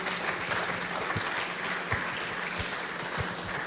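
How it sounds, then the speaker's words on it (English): An audience at a church health hangout gives a steady, continuous round of applause, many hands clapping evenly throughout with a few low thumps underneath. "Let's stand to applaud both Dr. Yao and Dr. Ladzekpo"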